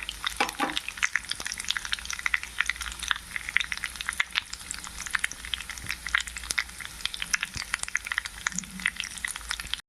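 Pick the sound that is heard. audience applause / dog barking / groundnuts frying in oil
groundnuts frying in oil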